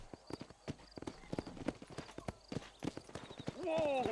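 Horse hooves trotting in the Red Dead Redemption western game, a rhythmic clip-clop of repeated hoofbeats up close, with a voice talking over them and a rising whinny-like sound near the end.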